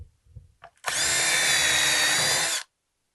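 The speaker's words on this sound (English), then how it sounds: "I start drilling holes" A power drill bores a hole in wood for a tall deck chair, with a brief rustle before it and one steady, loud whirring burst of under two seconds that stops abruptly.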